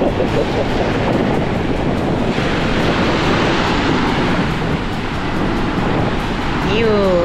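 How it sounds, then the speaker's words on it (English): Big ocean waves crash and wash onto a Florida beach in a steady, roaring surf, with wind buffeting the microphone and a few faint voices in the distance. "The waves are like really big today."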